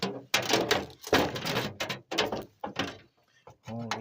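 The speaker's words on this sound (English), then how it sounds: "Now, get the stove open here." A stove door is pulled open with a brief clunk, close by and mixed in with someone talking.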